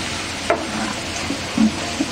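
Onions frying over medium heat in a pan for a Bengali fish egg fry, a soft steady sizzle with a few light stirring clinks and scrapes, no talking.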